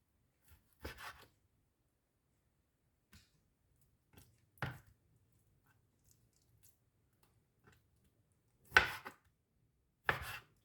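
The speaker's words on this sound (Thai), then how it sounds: "เดี๋ยวมาหั่นไก่เลย" A knife slices chicken on a cutting board in sparse, irregular strikes, several single thuds separated by pauses, close by and fairly quiet with no talking.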